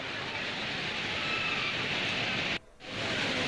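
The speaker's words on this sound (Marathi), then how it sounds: "सोसाट्याच्या वाऱ्यासह मुसळधार पाऊस येतो आहे।" Steady heavy rain hisses with a constant roar of stormy wind in Narkhed, Nagpur, briefly cutting out for a moment before resuming.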